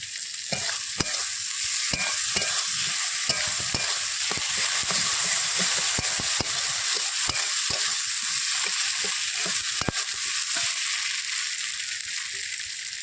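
Ginger-cumin paste and chili powder fry in mustard oil under a constant bright sizzle, broken by frequent scraping strokes of a spatula stirring the spices close up.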